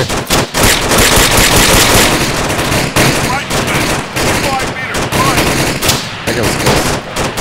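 Dense, loud automatic gunfire in the Arma III military shooter, continuous rattling bursts overlapping almost without pause, with brief voices buried under the shooting.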